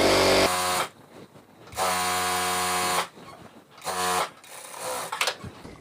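A sewing machine stitching a seam in fabric for a child's half pant, running in loud steady bursts that stop and restart, with quieter handling of cloth between runs.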